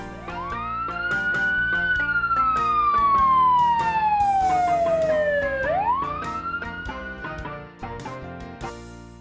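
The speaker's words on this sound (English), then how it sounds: "Red. Fire engine." A vintage red fire engine's siren wails loudly and alone, rising quickly, then sliding slowly downward before sweeping back up, with a steady rhythmic horn-like pulsing running beneath it.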